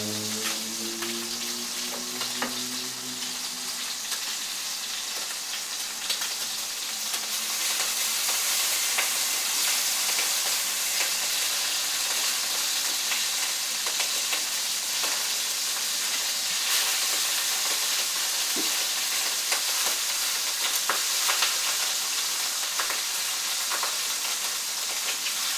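Wild-caught large shrimp fry in a hot pan with a loud, continuous hiss and crackle that holds steady near the mic, with no voices.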